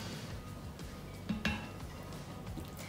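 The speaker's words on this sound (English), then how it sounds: "I'm just gonna spoon it all on top." A spoon scrapes and clinks against a bowl while sausage and bean stew is served on top, with a couple of soft knocks near the middle against a quiet kitchen background.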